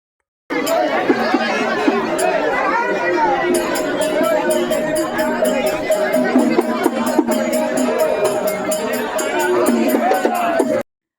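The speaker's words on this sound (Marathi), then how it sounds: "आणि मंदिरात खूप गर्दी होती" A dense crowd chatters and calls out at a Khandoba temple fair, a steady loud wall of overlapping voices, with faint rhythmic ringing rising above it partway through.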